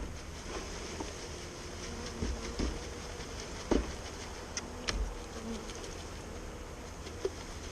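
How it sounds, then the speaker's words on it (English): About three pounds of honeybees, including a few drones, poured into a new hive. A faint, steady buzzing hum sits under soft scattered knocks and thumps. "we're just going to pour the bees into the hive"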